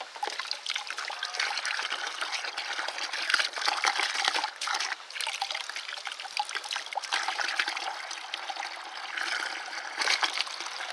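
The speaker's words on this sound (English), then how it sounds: "this is basically how you can flush out your heater core if you're having heat issues" Water from garden hoses flushing through a plugged car heater core, a continuous splashing trickle and gush that rises and falls as the pressure changes, steady and close with no talking.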